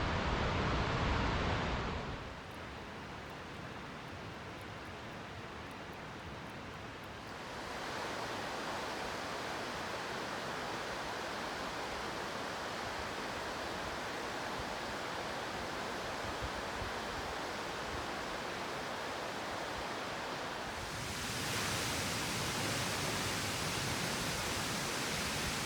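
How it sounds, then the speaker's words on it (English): A waterfall on Van Trump Creek at Mount Rainier rushes in a steady broadband roar, swelling louder as the listener draws nearer, then easing and rising again, with no voices. "I'm going to go a little bit closer and get some more views of the waterfall."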